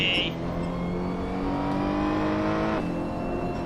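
A Ferrari 488 Challenge engine in Assetto Corsa drones steadily at a constant revving pitch, then shifts and settles lower near the end, close and loud with no talk.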